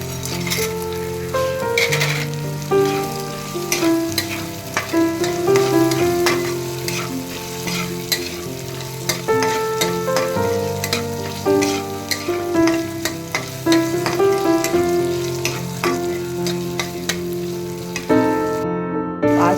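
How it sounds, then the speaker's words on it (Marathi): Peas and chana dal fry and sizzle in a hot pan for upma, a steady crackling hiss with occasional stirring scrapes over the full stretch, fairly loud and close, with no talking. "मटर आणि चण्याची डाळ टाकायची."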